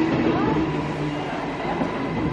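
Trains at a Brisbane railway station: a steady, broad rumble of rolling stock and rail noise fills the whole stretch at moderate loudness, with faint tonal squeals drifting over it.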